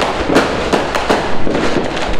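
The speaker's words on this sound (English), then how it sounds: "Ayan, may mga fireworks." New Year fireworks bursting in a rapid series of sharp cracks and booms, loud and fairly close, with no talk over them.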